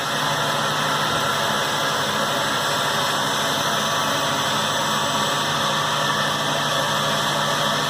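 A Tormach PCNC 770 CNC mill cuts metal with coolant flowing, giving a steady, loud hiss and hum with faint tonal whines that never stop or change across the span.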